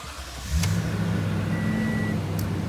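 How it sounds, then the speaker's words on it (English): Engine of a 2016 Toyota Tundra double cab pickup turning over and settling into a low, steady idle, close and loud with brief chime tones above the rumble. "Let's go ahead and start this truck up so you can see the exact miles."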